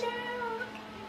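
A cat meows in a horror video game, a drawn-out tonal cry lasting about a second, clear and close with no talk over it.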